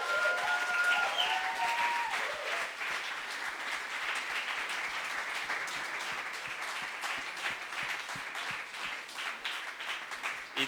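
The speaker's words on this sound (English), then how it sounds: "please, one more round of applause for all our speakers and performers today" Audience applause at a TEDx event, a sustained roar of many people clapping that starts loud and tapers slightly while staying dense and even, with no speech over it.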